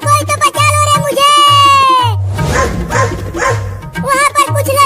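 A cartoon dog barks in a Hindi animated scene: a rapid run of loud, close yapping barks and whimpering yelps repeated throughout, mixed with animated vocal sounds.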